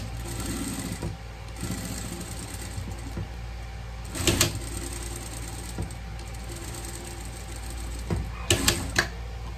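A sewing machine topstitches a small pet cap, running in a steady close whir with brief stops and restarts, punctuated by a few sharp clicks and rattles.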